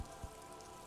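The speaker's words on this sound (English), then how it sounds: "All around you, rain keeps falling down." Steady rain falls in the video game Disco Elysium, pattering on wooden boards and open water as a soft, even hiss with no voices over it.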